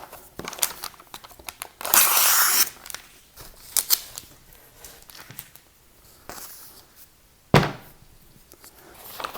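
Vinyl decal transfer tape crinkles and rustles in close, sporadic handling, with a loud burst of tearing or cutting and a sharp clack later, set against a quiet room.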